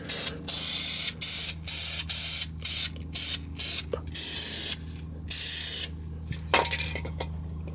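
An aerosol protective coating sprayed onto a car's undercarriage for winter protection: a dozen or so loud, hissing bursts of varying length, close to the can, separated by short pauses with a steady low hum beneath.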